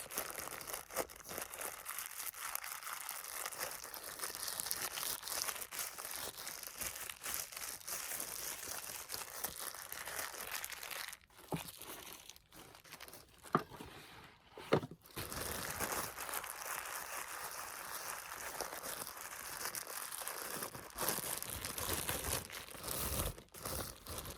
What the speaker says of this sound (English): I'm only really including this because of this plastic sound.